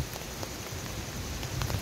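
Steady rain pattering down in a forest, a dense, even hiss with soft drops landing nearby, continuous throughout with no voices.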